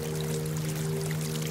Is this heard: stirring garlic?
no